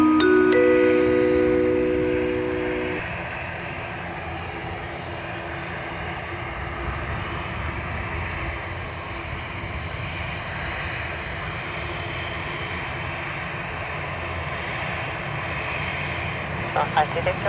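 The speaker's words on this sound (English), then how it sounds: "This is takeoff runway 10 right" Airliner engines roar steadily during a takeoff roll on runway 10 right at Dublin Airport, a broad continuous rumble that holds at a sustained loud level, with a brief tonal radio-like sound at the start.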